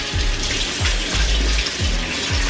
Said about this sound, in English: Rinse all that bacteria and germs off that